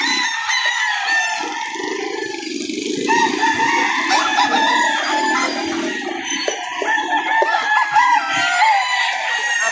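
Several roosters crow over and over at a livestock auction market in Padre Garcia, Batangas, loud and close with clucking and crowd bustle between the calls, while people talk nearby.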